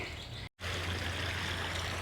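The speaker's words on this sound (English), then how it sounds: "It's pumping out. See, it's a nice soft flow." Water from an outdoor sump pump outlet pours out in a steady, soft flow into a yard drainage easement, a continuous close trickle interrupted by one brief dropout near the start.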